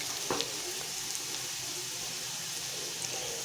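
Onions sizzle quietly in a pan of oil for a fish curry, a soft steady frying hiss with a few faint clicks of stirring.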